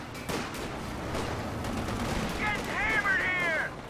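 Rapid bursts of gunfire ring out in a Company of Heroes-style real-time strategy battle, dense and continuous under loud commentator chatter, joined by whining ricochet-like tones near the end.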